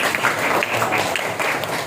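Classroom applause from a group of students, a dense steady patter of clapping that holds at an even level for about two seconds without talk over it.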